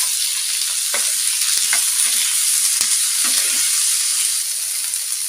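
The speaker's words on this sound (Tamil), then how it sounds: "வெங்காயம் தக்காளி நல்லா வதங்கி வந்துடுச்சு" Onions and tomatoes sautéing in a hot pan, loud steady hissing sizzle with several soft spatula knocks and scrapes throughout.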